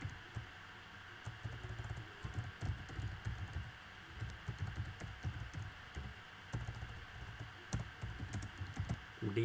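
Code is typed on a computer keyboard in quick, irregular bursts of close clicking keystrokes with short pauses, over a low steady background hum.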